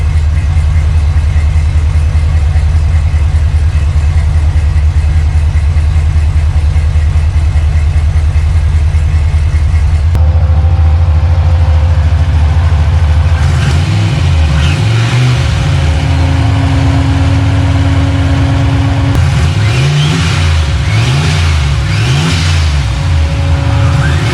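A Ford 302 V8 being built for 500 horsepower runs loud and close, idling steadily before the throttle is blipped into repeated sharp revs that rise and fall in quick bursts.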